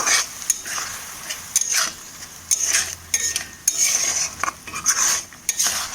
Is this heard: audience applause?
no